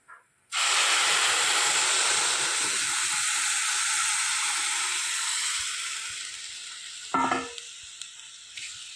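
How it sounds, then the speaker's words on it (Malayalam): Hot milk poured into roasted vermicelli in a pan sets off a loud, steady sizzle and hiss lasting several seconds. It fades gradually, with a brief clink of a utensil near the end. "ചൂടോടുകൂടി തന്നെ പാലൊഴിക്കാം."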